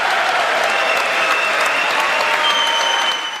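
Sustained applause from a large crowd after a presidential speech, a dense, steady wash of clapping that holds loud throughout and begins to fade at the very end.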